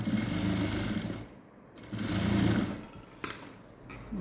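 Sewing machine stitching a window mosquito net, with a loud close whirring run that stops briefly, restarts, then eases off into short bursts.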